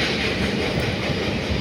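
An Indian Railways express train rolls steadily past close by, a loud continuous rumble of wheels and carriages with rhythmic clatter on the rails.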